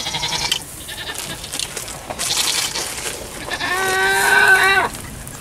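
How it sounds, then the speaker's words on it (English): A goat lets out a loud, drawn-out bleat near the end, following quieter farmyard rustling and a shorter distant call earlier. "Those goats."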